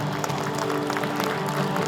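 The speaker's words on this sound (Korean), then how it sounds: "큰 박수로 모시겠습니다" Audience applauding an award recipient at the 5th Munmu Daewang Ocean Award ceremony, a steady wash of clapping held at an even level for the whole stretch.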